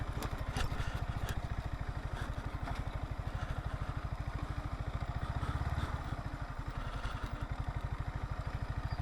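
A motorcycle engine runs steadily on a rural road near a sunflower garden outside Dinajpur, its loud, even putter close by and continuous throughout with some clatter, no talk over it.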